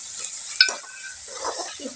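A spoon stirs salted tomatoes frying in a pan, giving a short scrape and clink over a soft, close sizzle during a brief moment.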